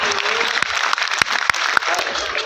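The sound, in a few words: audience applause at a poetry recital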